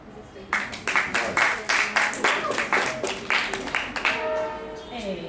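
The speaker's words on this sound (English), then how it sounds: "please, another round of applause" An open mic audience claps steadily and warmly for several seconds, dense hand clapping filling the room before tapering off, with faint tonal sounds near the end.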